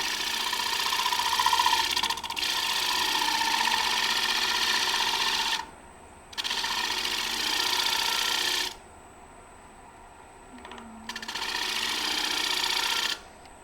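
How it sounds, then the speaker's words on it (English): A bowl gouge shear-scrapes a wooden bowl spinning on a lathe, giving a steady hissing shave in long passes separated by brief pauses, with the motor humming underneath. "I'm only using the bottom edge of the bowl gouge to basically shave that material"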